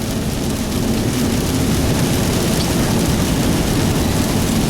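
Heavy rain pours over a farm field with a constant dense hiss and a low rumbling of thunder underneath, loud and unbroken throughout, with no voices.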